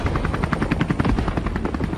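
Military helicopters, Huey-era US Army transport choppers ferrying air cavalry troops in Vietnam in 1968, flying in a loud, steady rhythmic rotor thump that fills the whole two seconds with no talk.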